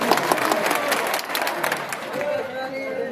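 A rally audience at a public meeting in Washim district claps together, a brisk spread of many hands applauding close by, fading slightly toward the end with a faint voice underneath.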